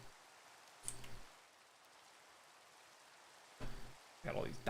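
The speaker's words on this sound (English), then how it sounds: "Oh, it's raining." Rain falling in Minecraft Java Edition with the Cobblemon mod: a faint, steady hiss that runs throughout, broken by a few short bursts of voice.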